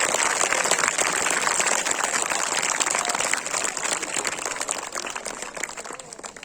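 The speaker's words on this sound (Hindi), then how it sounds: "उस बच्ची तक आपकी तालियां पहुंचना चाहिए।" Audience clapping for a student performer at a school foundation day event, a dense, continuous burst of applause from a crowd that fades slightly toward the end, with no speech.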